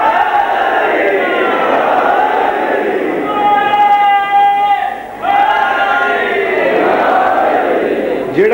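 Large crowd at a majlis in Sukheki Mandi chanting religious slogans in unison, loud rhythmic massed voices with a sustained call in the middle, dipping briefly before the chant resumes.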